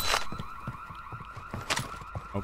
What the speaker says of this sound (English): Beep, beep alarm.